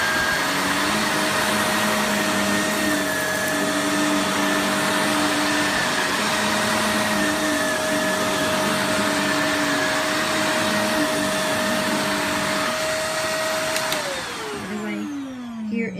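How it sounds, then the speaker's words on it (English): A Shark Navigator Lift-Away Deluxe upright vacuum cleaner runs on a rug with a loud, steady motor whine close by, then winds down as it shuts off near the end. "I'm going to vacuum it for you"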